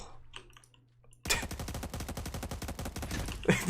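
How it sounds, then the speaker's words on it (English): Rapid automatic gunfire in the online shooter game Cyber Hunter bursts in after a quieter stretch of faint clicks and continues as a loud, fast volley to the end, with no talk. "I heard gunshots."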